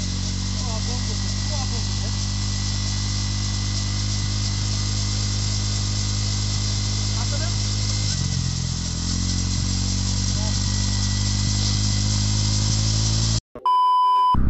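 A motorcycle engine runs with its luggage unpacked, a steady close idling drone that shifts in tone partway through and then cuts off abruptly near the end.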